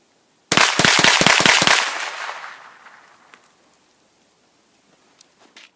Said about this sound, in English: This is all shooting just as fast as I could pull the trigger.